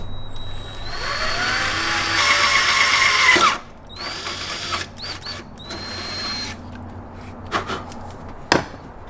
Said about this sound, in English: once we have that second hole drilled